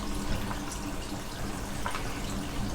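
Warm water runs steadily from a newly plumbed hot tap into a drain, a constant soft hiss and splash close by with no talking.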